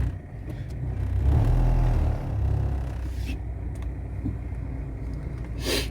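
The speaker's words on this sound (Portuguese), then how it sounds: "Então, estacionando o carro aqui" A Chevrolet Spin or Cobalt rolls slowly into a parking spot, its engine a low, close rumble that swells briefly then settles into a steady idle hum with road and cabin noise.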